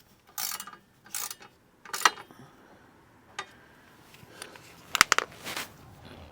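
A ratchet tightens a bolt during a Smart #3 repair, making several short, close bursts of rapid clicking separated by pauses, with a sharper cluster of clicks near the end and no speech.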